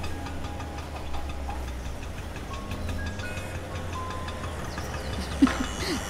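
A car engine runs at a low, steady idle while the car is being parked, a faint rumble with a light ticking knock under general background noise.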